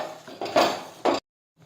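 Two or three quick scrapes of a spoon stirring eggplant bharta in a metal pan, closely heard, followed by a sudden drop into silence.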